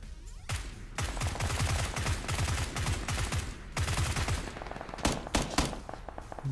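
Rapid bursts of automatic gunfire ring out in a PUBG match on Xbox One, firing in long strings of shots with short gaps, loud and close.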